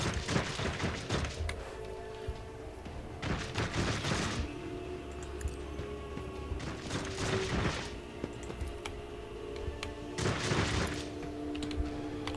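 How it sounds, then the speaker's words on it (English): Gunfire in the video game Warhammer 40k Rogue Trader, with repeated bursts of crackling shots and thuds every few seconds over a steady low rumble of game music and ambience, moderately loud. "They're shooting."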